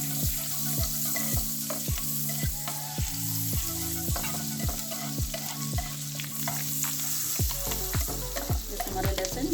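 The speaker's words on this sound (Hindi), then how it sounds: "और हम सबसे पहले लहसुन डालेंगे। इसे हम सौते करेंगे 1 मिनट के लिए।" Garlic sautés in butter mixed with olive oil in a hot pan, giving a steady close sizzle broken by frequent sharp clinks and scrapes as it is stirred, with a low hum running underneath.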